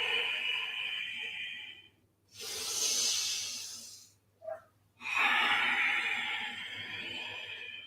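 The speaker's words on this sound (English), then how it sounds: "That ocean breath, that's part of that rhythm, that part of that beautiful sound that you're making, that audible breath." Ujjayi ocean breathing during an all-levels yoga class: slow, audible hissing breaths, a long exhale, a long inhale, a brief catch, then another drawn-out breath, close and steady with no talking.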